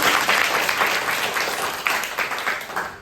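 A group in an English-learning class claps for a student who has just answered, a lively, steady round of applause that eases off slightly toward the end.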